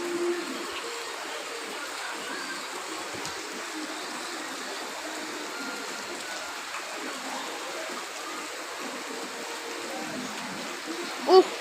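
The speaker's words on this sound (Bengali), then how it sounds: "ওহ কি বৃষ্টি! এবার আপনাদের একটা স্মুথ ভিডিও দেখায় বৃষ্টি।" Heavy rain falls in Ashulia near Dhaka, heard as a soft, steady rushing wash of water that holds even and fairly faint throughout, with a brief louder knock at the very end.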